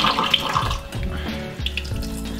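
Pineapple juice pours steadily from a can into a kitchen sink while a homemade pizza is prepared, a continuous watery splashing and trickle with no talk.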